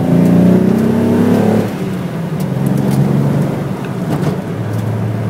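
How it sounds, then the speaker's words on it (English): Nissan Datsun L30 engine fitted with triple Mikuni 44PHH carburettors revving, a loud close roar that rises sharply, then drops back to a lower, rougher running tone. "I'm starting to rev it a bit more now"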